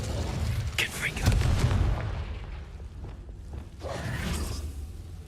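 A Confringo explosive spell blast in Hogwarts Legacy, a booming burst with a whooshing tail, followed by a second softer rumble, under a speaking voice.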